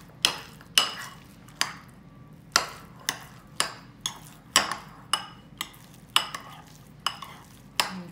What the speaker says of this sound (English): Now we're gonna mix this up.